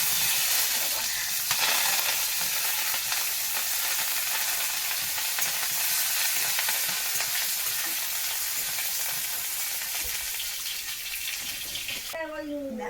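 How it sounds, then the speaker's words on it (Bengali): Chopped onions frying in hot oil in a small wok, a loud continuous close sizzle with faint stirring scrapes, ending as a voice briefly begins. "তো প্রথমে পেঁয়াজগুলো আগে ভাজা ভাজা করে নেবো"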